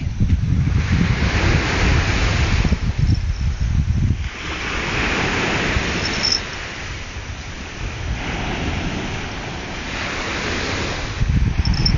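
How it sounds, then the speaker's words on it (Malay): Sea waves surge against the shore at Penang on a night fishing trip, a loud, rushing roar that swells and eases in long cycles, mixed with heavy wind buffeting the microphone. "Yang ni sebenarnya ombak."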